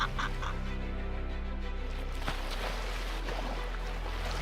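Seabirds calling while patrolling over the Atlantic sea off Almada, with a few faint cries set against steady wind, water noise and a low engine-like hum.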